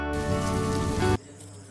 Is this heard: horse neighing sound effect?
no